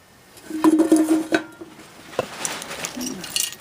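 Metal clips clank and rattle against an aluminum spoon inside a pot, a run of close, bright clinks early on, then softer scraping and tapping, with a faint voice-like hum at times.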